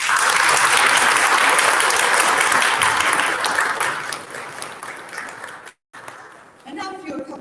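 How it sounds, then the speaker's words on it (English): Audience applause at a university graduation celebration, sustained loud clapping from a large crowd that fades out over several seconds before a voice begins speaking. "Please join me in a round of applause."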